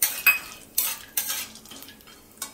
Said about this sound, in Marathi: आता आपण ड्रायफ्रुट्स थोडे तुपावर परतून घेणार आहोत।